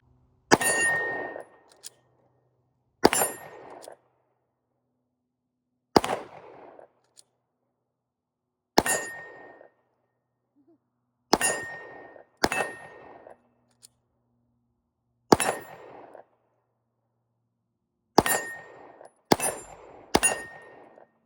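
About ten pistol shots at a shooting range, fired one by one in sharp, ringing cracks roughly every two to three seconds, with a few quicker pairs near the end and quiet gaps between them.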